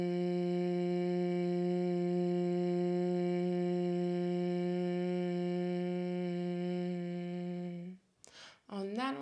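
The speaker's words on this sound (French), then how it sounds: "c'est le bourdonnement. En fait c'est le bruit du bourdon." A long steady humming exhalation of Bhramari yoga breathing, a bumblebee-like drone held for about eight seconds in a quiet room, ending in a short breathy inhale.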